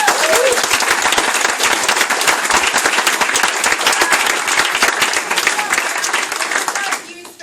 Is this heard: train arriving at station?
no